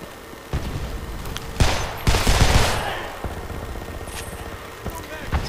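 Rapid automatic gunfire from a weapon in a first-person shooter video game, in bursts of fast cracks that swell loudest in the middle and then fade, with someone talking over the shots.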